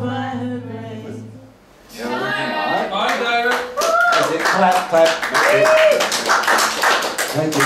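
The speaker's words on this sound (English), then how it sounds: "Clap, clap." Audience clapping at an open mic night, a burst of applause that starts after a brief quiet and carries on with dense hand claps while voices speak and call out over it.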